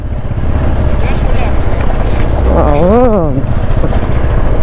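A motorcycle engine revs on a windy Ladakh mountain road near Pangong, a loud continuous drone with wind buffeting the microphone and a rising-and-falling throttle swell partway through, while someone talks over it.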